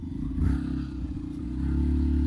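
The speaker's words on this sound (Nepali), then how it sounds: "एउटा बाइक चाहिँ आइसकेको छ" A motorcycle engine on a rough mountain track where riders struggle to get their bikes through, a low, steady rumbling drone that grows slightly stronger toward the end.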